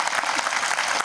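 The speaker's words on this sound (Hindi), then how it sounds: "इस उद्बोधन पे मैं चाहूँगा आप जोरदार ताली बजाएं" Audience applause at an Independence Day celebration gathering, a dense, steady wash of many hands clapping together, loud and sustained throughout without pause.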